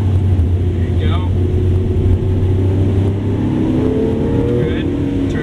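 Lamborghini Aventador engine on a race track, a steady loud droning roar that holds throughout, with a coach's voice talking over it.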